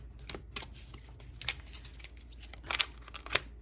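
An oversized Fairy Tarot card deck being shuffled by hand, a series of soft papery riffles and sharper card slaps at an irregular rhythm, close and fairly quiet.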